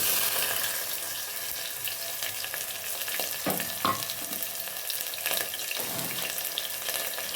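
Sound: sliced onion and garlic frying in a pan

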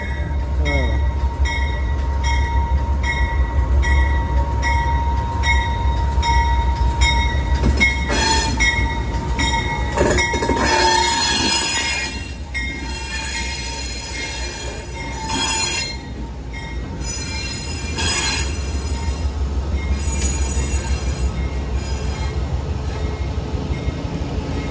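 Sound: Amtrak train cars rolling by

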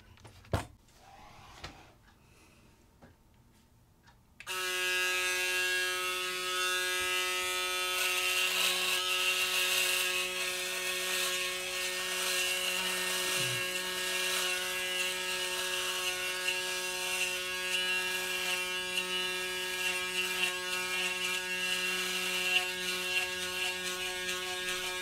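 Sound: Braun Series 8 electric shaver shaving

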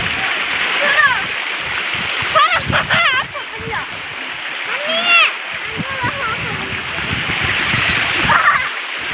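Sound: water pouring and splashing into lake

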